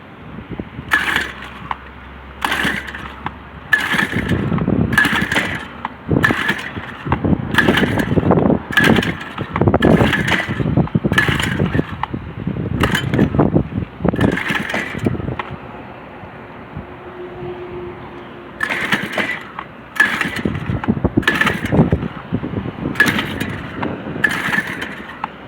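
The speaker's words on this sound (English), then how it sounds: "Damn thing won't start." A brand-new motorbike engine is pull-started again and again without catching, each tug giving a sharp, loud rattling burst in an irregular rhythm, with short quieter gaps between pulls and no engine running.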